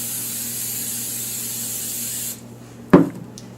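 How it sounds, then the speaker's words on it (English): Cooking spray hisses onto a baking sheet in one steady, close spray lasting a little over two seconds, followed by a sharp clack as the can is set down. "Then I'm going to spray a baking sheet with cooking spray."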